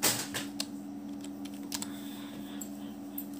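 Quick, light keystrokes clatter on a computer keyboard in short irregular bursts, soft and close against a steady low electrical hum in a quiet room.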